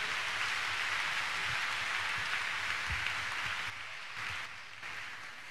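Congregation clapping hands together at a church counselling and deliverance service, a dense, continuous patter of many hands that carries on for several seconds and eases slightly toward the end.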